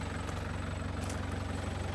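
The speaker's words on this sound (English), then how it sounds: "now turbo spinning up a treat" Land Rover 90 diesel engine running steadily after an injector clean, with a turbo spinning up; a loud, continuous low rumble holds throughout with a steady throb and no voices.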